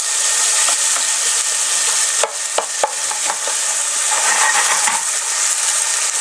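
Garlic sizzles steadily in a hot pan, loud and close, while a utensil scrapes and taps against the metal as it is stirred, with no one speaking.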